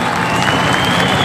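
An audience at a large youth gathering gives a round of applause for guests from Yozgat, a short burst of dense clapping and crowd noise filling the room.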